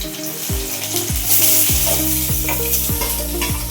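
Chopped onion and garlic fry in a pan with a constant close sizzle, while a spoon scrapes and stirs at a regular rhythm of about one stroke every half second. No voices are heard.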